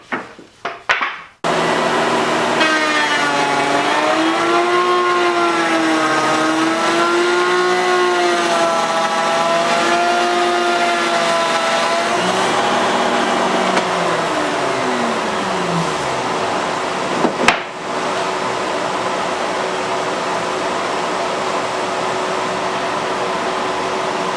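A router cuts a test dado in plywood. Its high whine starts abruptly and wavers in pitch at first, then settles into a steady continuous drone, with a short knock near the end.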